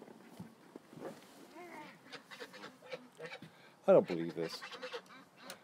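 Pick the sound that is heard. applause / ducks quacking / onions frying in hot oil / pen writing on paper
ducks quacking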